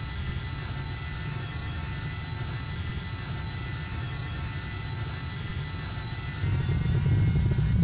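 Large airplane engine in the Roblox video game, a steady droning roar held throughout and swelling louder near the end, with no talk.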